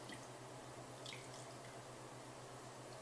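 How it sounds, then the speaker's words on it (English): Liquor poured over ice cream in a mug for a Halloween cocktail, a faint, quiet trickling liquid with a few soft splashes under a steady low hum, no talking. "And then you will pour your liquor over it."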